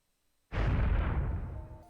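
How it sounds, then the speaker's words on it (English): A single sudden, heavy explosion in the visual novel game Hakuouki: Kyoto Winds, set in Kyoto, bursting loud out of silence and rumbling on with a deep roar for over a second before easing off. "I'd heard a thunderous explosion outside, as if the sky fell and crashed onto all of Kyoto."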